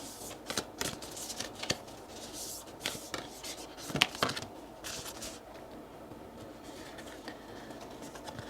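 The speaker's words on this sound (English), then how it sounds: "Cards are hard to shuffle, but something will come out." Tarot cards being shuffled in repeated riffling and rubbing bursts, close and soft, with short pauses between handfuls; no talking.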